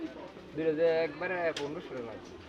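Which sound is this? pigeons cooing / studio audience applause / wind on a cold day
pigeons cooing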